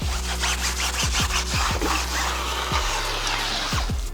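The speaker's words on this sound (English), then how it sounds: "to remove this brownish kind of shimmer from the tire, just scrubbing it" A brush scrubs brake dust off a car tire in quick rubbing strokes, a close, steady scratchy rasp with brief squeaks scattered through.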